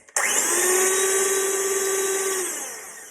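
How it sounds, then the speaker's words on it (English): An electric whisk beats egg whites for pavlova in a home kitchen, starting abruptly with a loud, high motor whine that holds steady and then slowly fades after about two and a half seconds. "So the first thing we have to do is whisk our eggs, and I'm going to use this really loud whisk."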